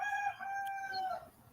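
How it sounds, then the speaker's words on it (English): A rooster crows once, a clear, drawn-out cock-a-doodle-doo at moderate distance that rises and trails off, with no talking over it. "Is that a rooster or a chicken?"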